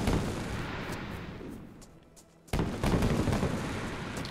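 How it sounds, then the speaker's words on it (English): Gunfire in the survival video game DayZ on the Namalsk map: a dense, continuous roar of shots that thins briefly, then resumes abruptly at full loudness, with no voices. "I heard, gunshots."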